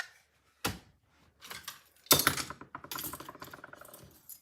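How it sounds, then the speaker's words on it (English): Ribbon scissors drop and clatter on a craft table in a sharp metallic impact, followed by scattered small clicks and rattles of objects being handled nearby. "Dropping my ribbon scissors."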